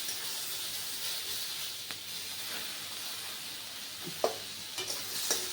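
Coriander seeds frying in oil, a continuous bright hissing sizzle with occasional light scrapes and taps of stirring, close and steady throughout.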